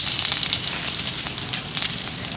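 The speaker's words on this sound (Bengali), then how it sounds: "তো ভালো করে লঙ্কাটাকে পাঠিয়ে নেবো কালো করে।" Dried red chilli frying in hot oil, a steady close sizzle with fine crackling that runs unbroken through the whole stretch.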